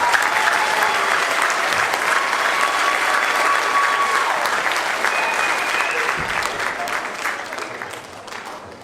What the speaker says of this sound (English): Let's give them another hand for doing an excellent job.